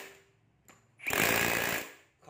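A rotary hammer drill in hammering mode bursts on for under a second of loud, rough, rattling pounding, after a brief quiet lead-in with a faint click.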